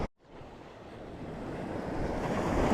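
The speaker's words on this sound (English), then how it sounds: "Let's just meander for a minute and enjoy the ocean sounds." Ocean surf washes onto the beach at Egmont Key, a continuous, swelling roar of waves that grows louder, mixed with wind buffeting the microphone.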